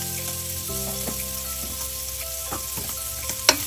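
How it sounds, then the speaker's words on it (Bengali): Chicken pieces frying in butter with a little salt for chicken soup make a continuous close sizzle and crackle, with a short sharp clink near the end and no talk. "এটা একটু ফ্রাই হতে দিন, জাস্ট 2 থেকে 3 মিনিট।"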